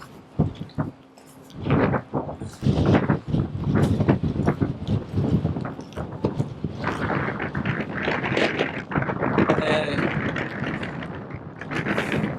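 Strong, gusty wind with rain in a New Hampshire town, buffeting close and loud in uneven surges with a rough, roaring texture and no talking.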